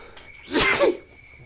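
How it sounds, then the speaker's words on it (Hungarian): A single close, sharp sneeze from a player during a S.T.A.L.K.E.R. Shadow of Chernobyl session, bursting loud and brief over a faint hum with game sound quiet behind. "tüsszenteni fogok"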